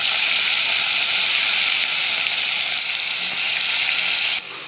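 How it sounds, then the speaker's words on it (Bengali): Five pieces of catla fish fry in hot oil in a kadai, a loud, steady, dense sizzle that fills the whole clip and drops off slightly right at the end. "এবার মাছগুলো আমি একসাথে গরম হয়ে গেছে ভেজে নেব"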